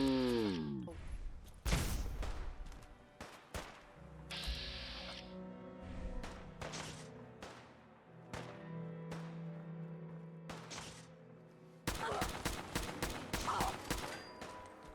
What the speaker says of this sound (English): Oh, she's still shooting?